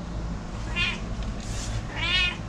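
A domestic cat meows twice near feeding time, two close, clear cries over a steady low background hum.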